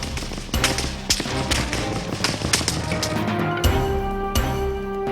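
Soldiers in the U.S. invasion of Panama fire their weapons at roadblocks: a loud, irregular run of sharp cracks and thumps, some in quick bursts, over a rumbling background.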